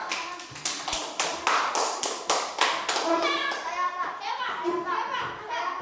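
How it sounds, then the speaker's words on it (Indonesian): Children in a classroom clap for a classmate in a fast rhythmic burst of sharp, evenly spaced claps, then break into chatter and young voices talking over the fading claps. "tepuk tangan buat Cialista."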